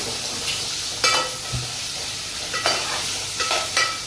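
Mutton and onion fry with whole garam masala in a hot pan, a continuous close sizzle broken by several sharp scraping clatters of a spoon stirring.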